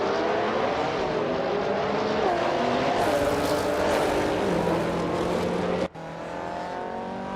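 A 1995 BMW M3 GTR Evo race car engine in a racing game roars at steady high revs, with gear shifts and rising pitch sweeps, then a sudden cut and restart near the end; no talking.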